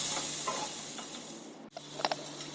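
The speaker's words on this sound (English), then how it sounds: "have the ginger and garlic paste fried together for a minute" Ginger and garlic paste fries in a pan with a steady broadband sizzle and hiss, broken by a few light stirring clinks and scrapes near the end.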